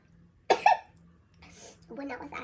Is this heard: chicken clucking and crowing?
no